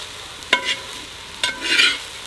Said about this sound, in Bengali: আর এই ঘিয়ের সঙ্গে চালটাকে একটু ভেজে নিতে হবে